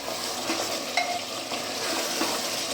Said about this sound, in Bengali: মিডিয়াম ফ্লেমে আস্তে আস্তে আমি কষিয়ে নিচ্ছি